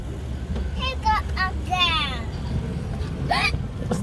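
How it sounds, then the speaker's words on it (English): A child makes several quick, squeaky hiccups in a short run, then one more a moment later, over a constant low engine rumble like a moving vehicle. "Stop hiccup now."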